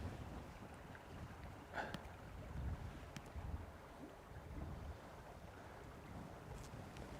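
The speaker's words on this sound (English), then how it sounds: "Oh, that's so hard. That wind." Wind gusts out on the water while trout fishing, a faint, steady rushing noise with low buffeting rumble against the microphone and no talk.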